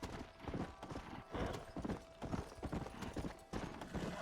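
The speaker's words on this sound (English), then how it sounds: "Oh my god, I almost got bucked off my horse." Horse hooves clip-clop steadily in the Western game Red Dead Redemption, a quick, even rhythm of close, clear hoofbeats sounding alone over a low background hum.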